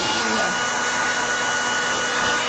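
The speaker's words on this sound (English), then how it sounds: "Hair dryer. Yeah, that's what I mean by being noisy." A hair dryer runs continuously at close range during acrylic varnishing and gesso work, a loud steady whooshing blower roar with a constant motor whine and no pauses.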